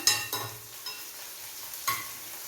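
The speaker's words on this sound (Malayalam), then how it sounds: "എണ്ണയ്ക്കകത്ത് ഇടുന്നതൊന്നും അതിൻ്റെ പൊട്ടലൊന്നും നിന്ന് കഴിഞ്ഞാൽ മതി" Ingredients for jackfruit-seed sambar crackle in hot oil. Several sharp pops and spatters land at irregular intervals over a faint sizzle, close and clear, with no voices.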